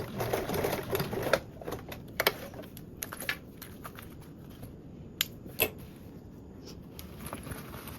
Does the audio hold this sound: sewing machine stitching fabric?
yes